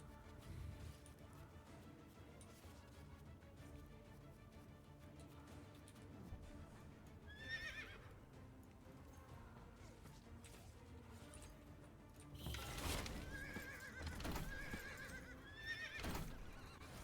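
Horses whinny and neigh several times in a medieval battle strategy game, with a loud burst of overlapping neighs near the end over a steady background of hooves, clatter and battlefield noise.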